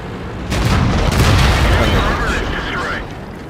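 A tank cannon firing in World of Tanks during a match against a KV: a heavy, booming shot that rolls on into a sustained rumble and ringing tail, loud and close, with a voice talking over it.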